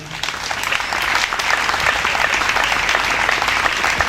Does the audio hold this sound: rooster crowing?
no